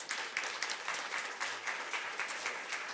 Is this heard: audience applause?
yes